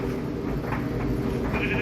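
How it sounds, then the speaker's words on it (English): Sheep bleating in Minecraft Pocket Edition (Bedrock), a short run of wavering bleats over a dense, continuous background drone. "No, we need the sheep."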